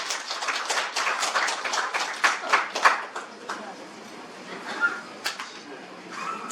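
Scattered applause welcomes an honorary chairman at a year-end tourism association gathering in a hotel, with distinct close claps that thin out into sporadic taps, and voices murmur underneath.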